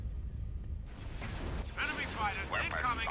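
Space battle weapons fire in Thrawn's Revenge, the Star Wars strategy mod, with ion cannons and laser cannons booming amid fighter combat. A continuous low rumble of blasts carries under the game's radio chatter and sharp synthetic zaps.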